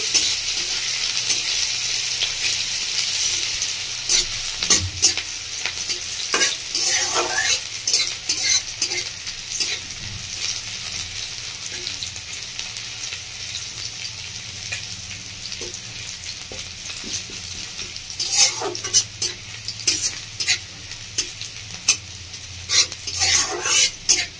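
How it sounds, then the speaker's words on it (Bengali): Chopped onion and green chilli fry in oil with a continuous sizzle, while a spatula stirs and scrapes the pan in repeated bursts. The sound is close and fairly loud, with no speech. "পেঁয়াজ লঙ্কা হালকা ভাজা ভাজা হয়ে এসছে"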